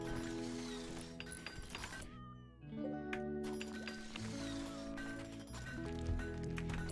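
Cats meow in the RimWorld video game, a few faint cries over steady layered game music and background sounds, with no talk.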